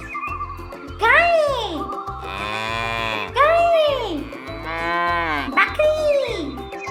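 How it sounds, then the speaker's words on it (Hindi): A cartoon cow moos in long, swooping calls over a steady, bouncy children's song beat, with several moos repeating across the loop in a kids' animal-learning cartoon. "गाय"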